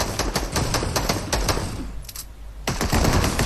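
Fortnite gunfire in rapid automatic bursts, dense and loud, pausing briefly and then resuming in a heavy stream of shots.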